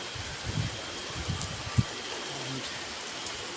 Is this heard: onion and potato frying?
no